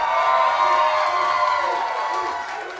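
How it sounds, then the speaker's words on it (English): A large crowd gathered for a live Packers clubhouse show on a Monday night cheers and shouts continuously, a dense roar of many voices filling the room. "Look at this crowd. How you guys feeling tonight?"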